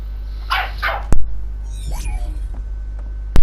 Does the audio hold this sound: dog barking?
yes